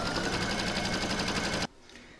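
An embroidery machine stitches an in-the-hoop oven mitt, running as a loud, steady rapid needle chatter with regular pulses, then cutting off abruptly, leaving a faint quiet tail.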